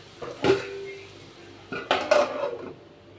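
A metal lid set onto a cooking pot of raw banana fry with two separate clanks, a softer one first and then a louder ringing clatter, close and alone.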